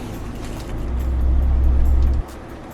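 A 2021 Mahindra Thar top-model automatic petrol SUV drives along, its engine a loud, steady low rumble from inside the cabin that swells slightly before dropping off abruptly near the end.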